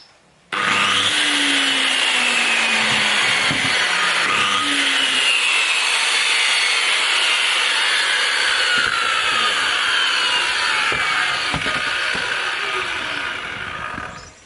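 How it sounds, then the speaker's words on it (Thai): A circular saw whines loudly and steadily for over ten seconds, its pitch shifting slightly as it runs, then winds down at the end. "เดี๋ยวมาลองฟังเสียงเครื่องเลื่อยวงเดือนดูบ้าง"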